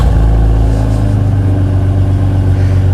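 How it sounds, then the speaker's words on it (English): A BMW E36 M3 race car with a custom exhaust revs hard, its loud, throaty engine note rising and holding close by for the whole stretch with no talking. "And we've got a custom exhaust on the back, and here's what that sounds like."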